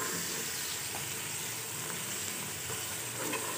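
Minced meat (keema) frying with garlic-ginger paste for a peas and keema curry gives a steady, dense sizzle throughout, close and even, with no talking.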